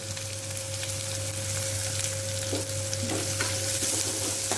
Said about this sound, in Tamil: இதை வந்து எண்ணெயில் வந்து நல்லா வதக்கி விட வேண்டியதான்